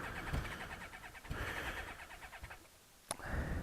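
A carbureted motorcycle engine starts with the choke pulled out, giving a steady close engine drone that dips briefly, with a sharp click near the end before the running sound resumes.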